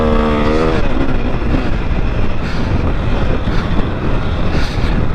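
A 2021 KTM 500 EXC dirt bike is ridden hard on a motocross track, its single-cylinder engine roaring loud and steady close by under heavy wind rush.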